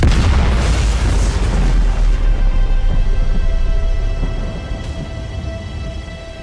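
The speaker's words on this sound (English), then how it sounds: "as the universe is born again in one brilliant flash of light and sound" A deep, loud boom marks the universe being reborn in a flash of light and sound in the video game Outer Wilds, rumbling heavily and then fading into a long, low decay with no voices.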